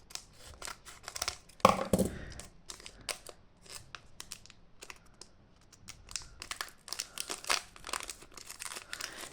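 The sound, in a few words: scissors cutting open a Pokémon 151 booster pack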